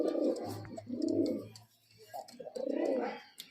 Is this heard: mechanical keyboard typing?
no